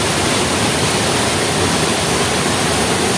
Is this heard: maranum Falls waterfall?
yes